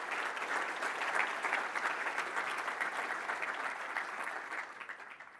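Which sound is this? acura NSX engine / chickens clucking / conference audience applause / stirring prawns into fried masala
conference audience applause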